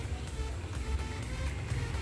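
A Suzuki AX100 two-stroke motorcycle with a modified, shortened silencer rumbles steadily at close range, its low engine drone carrying rough pulsing and broad exhaust noise.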